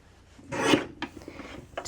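A paper rectangle being trimmed for scrapbook pages, a brief rasping swipe of the cutter followed by a couple of faint scratches, close and quiet.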